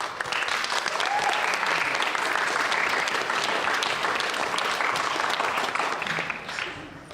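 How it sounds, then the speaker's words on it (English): Sustained round of applause from a conference audience at a general assembly, dense steady clapping lasting about seven seconds before tapering slightly at the end. "Please give yourself a round of applause."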